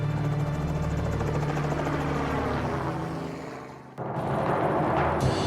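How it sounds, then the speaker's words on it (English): A helicopter's rotor thumps and engine whine drone steadily and loud nearby during a simulated engine failure above Alaska's Knik River Valley, dipping briefly before surging back. "simulating helicopter engine failure above the Knik River Valley"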